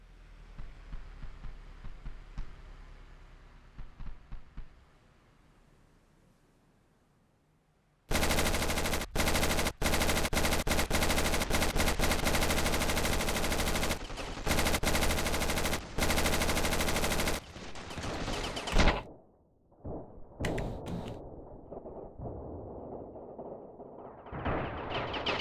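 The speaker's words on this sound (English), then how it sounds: "We use the machine gun." Machine gun fire in the RavenField video game during a D-Day defense battle, a loud sustained automatic burst of several seconds with dense rapid shots and brief breaks, after a quieter build-up.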